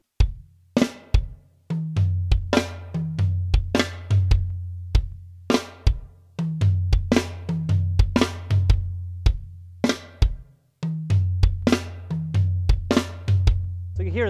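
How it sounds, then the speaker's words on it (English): Drum fill played slowly on a kit, with scattered snare drum flams among rhythmic tom and bass drum hits, clear and close with no talking. "So you can hear there's a few snare drum flams in there too."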